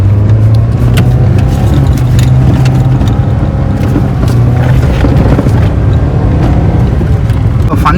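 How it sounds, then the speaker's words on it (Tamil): A restored sixteen-year-old Ford Ikon in first gear roars with a loud, steady engine drone that holds through the whole stretch, close by and continuous. "பார்த்தீங்கன்னா ஃபுல் த்ராட்டில் கொடுக்க ஆரம்பிச்சிருவோம்."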